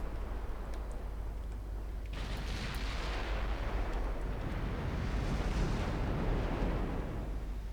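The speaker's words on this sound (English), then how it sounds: "Boyardee firing HE." Warship guns firing high-explosive shells in a naval strategy game, a continuous rumbling barrage of booms and blasts building and rolling steadily with no talk over it.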